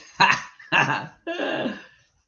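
Dog barking three times in a row, short, close and loud, each bark followed by a brief silence, the last one longer and drawn out.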